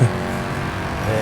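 A Mercedes-Benz C63 S AMG engine in Forza Horizon 4, heard from outside the car, drones steadily at high pitch, a brief continuous roar with a slight rise at the end.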